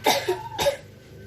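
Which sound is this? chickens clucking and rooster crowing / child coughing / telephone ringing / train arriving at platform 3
child coughing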